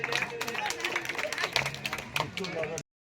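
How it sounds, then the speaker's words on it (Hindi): A crowd at an outdoor political welcome gathering in Fatehpur Chowk, Nathnagar, claps vigorously in a dense, continuous patter of hand claps mixed with voices and babble, before cutting off abruptly. "जोरदार ताली हो जाए"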